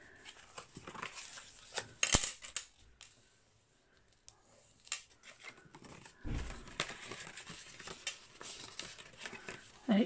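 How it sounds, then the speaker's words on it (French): Paper being creased to mark folds while assembling a scrapbook album, giving sharp crisp snaps and crinkling rubs scattered irregularly at close range, with quiet stretches between bursts. "Donc maintenant, c'est avec du pliage. Donc, on va marquer nos plis."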